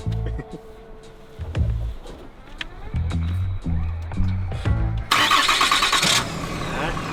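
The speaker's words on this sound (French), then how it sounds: "Au bruit d'un diesel." A diesel truck engine cranks in repeated low, chugging bursts, then catches and roars louder near the end.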